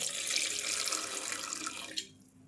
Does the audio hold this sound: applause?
no